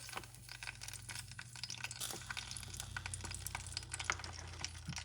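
Plantains fry in a hot gas iron pan set a couple notches above medium, giving a steady soft sizzle with scattered crackles and pops under a low hum.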